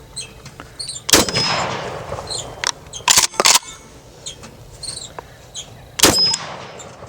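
Kel-Tec KS7 shotgun firing Federal 7.5 shot at steel targets outdoors, a handful of sharp, loud blasts with ringing metallic hits and pump-action clacks between shots.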